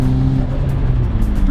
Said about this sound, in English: You might just hop in one day and it's gonna start making turbo noises